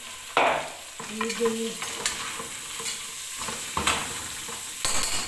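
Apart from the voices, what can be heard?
cabbage added to a pot with browned garlic, sizzling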